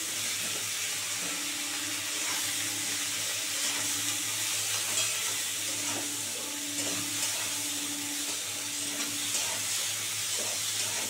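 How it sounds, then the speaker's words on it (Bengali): Foli fish frying in hot oil with salt and turmeric, a steady close sizzle and hiss running unbroken, with faint clinks over it and no talking. "দু মিনিট ধরে লাল করে ভাজবো।"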